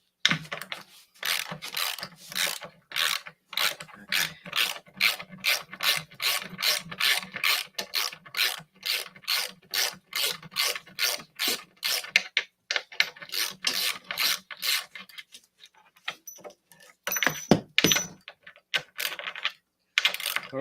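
A ratchet clicks rapidly while bolts are tightened on the legs of a new Stern Foo Fighters Premium pinball machine, rhythmic bursts of close mechanical ticking with short pauses between strokes.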